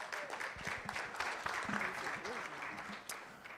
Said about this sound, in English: let's give the Chimota Choir a round of applause